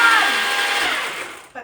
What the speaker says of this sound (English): I do have an ice shaver that we got a while back